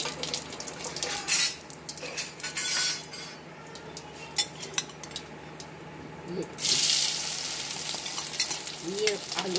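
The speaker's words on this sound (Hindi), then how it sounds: "ये आलू डाल दीजिए और ये आलू को हल्का सा फ्राई कर दीजिए।" Potatoes fry with cumin seeds in hot oil in a pan, a close, continuous crackling sizzle punctuated by utensil scrapes and clinks as they are stirred, with a brief voice at times.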